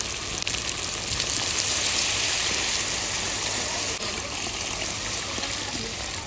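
Water is poured into a pot of cooking mutton, giving a steady, close rushing hiss that mixes with sizzling and continues evenly without a break.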